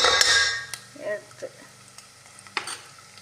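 Ingredients for Muslim-style sheer khurma fry in ghee, opening with a loud hissing sizzle that fades into scattered stirring clinks and soft spatters, with a brief murmuring voice in between.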